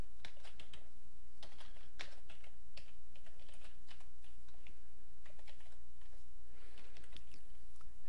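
Someone enters sample data on a computer keyboard, a steady patter of close, light key clicks in irregular quick runs with short pauses, no one speaking.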